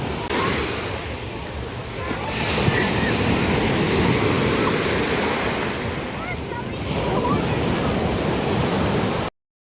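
Black Sea surf rolls onto a beach, a loud continuous wash of breaking waves with surges and dips, mixed with gusty wind buffeting the microphone.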